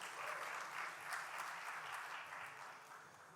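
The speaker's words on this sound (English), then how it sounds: "Let's welcome him with a round of applause," An Independence Day celebration audience in Dubai greets a speaker taking the stage with a continuous round of applause, dense but fairly quiet and distant, gently fading toward the end.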